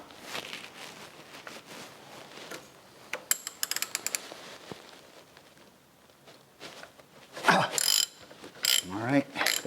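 Ratchet clicking in short quick bursts while loosening a bolt on a Jaguar XJ6 torque converter during TS 100 gearbox removal, with fainter mechanical clatter and scraping around it and louder knocks near the end.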